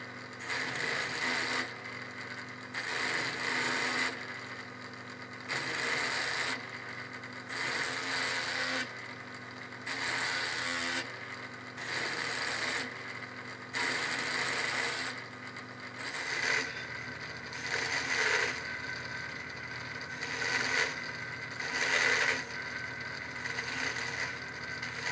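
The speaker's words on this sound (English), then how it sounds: "I shaped the handle with the 1/2-inch and 1/4-inch gouges." A mini wood lathe turns a wooden darning egg handle as 1/2-inch and 1/4-inch gouges shape it, giving repeated bursts of scraping and whirring in rhythmic passes over a steady motor hum.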